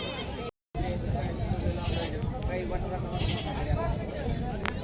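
Goats and sheep bleat repeatedly amid a busy crowd of talking people at the Bodhegaon goat market, a continuous noisy market din throughout.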